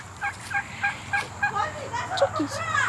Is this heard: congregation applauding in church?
no